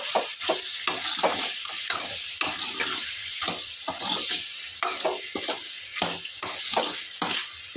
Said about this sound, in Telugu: ఇంక ఇప్పుడైతే చికెన్ కూడా కలిపేస్తాను